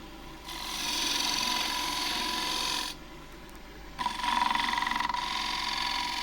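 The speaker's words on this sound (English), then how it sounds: "I'll just put a little bead in. Okay, this is the 1/2 inch spindle gouge." A half-inch spindle gouge cuts a bead into a warped box elder plate on a wood lathe, giving a loud continuous scraping hiss in two long passes with a brief pause between them.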